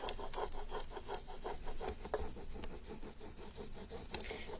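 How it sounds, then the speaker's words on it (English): Tissue paper rubbed firmly over a decorated box with a rhythmic scrubbing rasp, repeating strokes at a steady pace, close and continuous with no voices. "find something suitable to give this a good rub"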